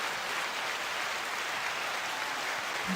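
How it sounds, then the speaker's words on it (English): Studio applause fills the space as a steady, even wash of clapping at low level, continuous throughout with no voices over it. "The one and only BK, 9-second applause."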